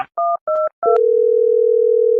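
A telephone call is dialed: three short touch-tone beeps in quick succession, followed by a steady continuous tone, loud and close with nothing else heard.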